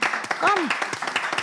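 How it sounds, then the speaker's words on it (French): Brief burst of audience clapping for prize winners called up at an event, mixed with close voices talking over it and a short whistle-like tone. "Applaudissez."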